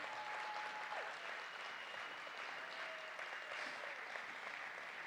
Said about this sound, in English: Let's keep that round of applause going as we wrap this up.